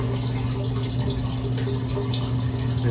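Water gushing steadily from the outlet pipe of a basement sewer pump, a loud continuous rush with no break.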